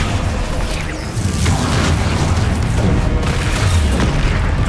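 A Bombarda spell explosion from Hogwarts Legacy booms low and heavy, followed by a rumbling, sustained roar of battle noise without talk.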